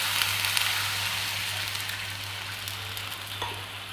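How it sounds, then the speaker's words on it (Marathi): Water poured into a hot tempering for a Maharashtrian rassa hisses in a dense, steady, close sizzle like rain on a surface, with a low hum underneath and no speech. "आपली फोडणी तयार आहे। यात आपण पाणी घालून घेऊया।"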